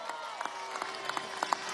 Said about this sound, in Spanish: Por favor, un aplauso a los que bajaron la bandera.